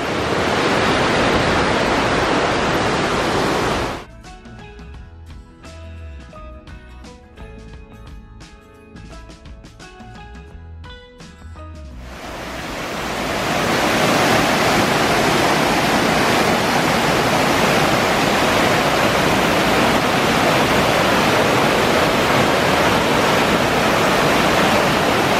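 Water rushes over rocks on a mountain trail near Puy de Sancy, a loud, continuous roar that drops away for several seconds, with a quieter interval of other sounds, before swelling back up close.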